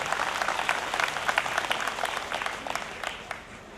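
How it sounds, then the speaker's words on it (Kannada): An audience at a Hindu Sangam gathering in Kotekar, Ullal taluk, gives dense, steady applause that fades slightly near the end. "ಆ ಎಲ್ಲ ಪುಟಾಣಿಗಳಿಗೆ ಜೋರಾದ ಚಪ್ಪಾಳೆಯ ಅಭಿನಂದನೆಯನ್ನು ನಾವು ಒಮ್ಮೆ ಸಲ್ಲಿಸೋಣ"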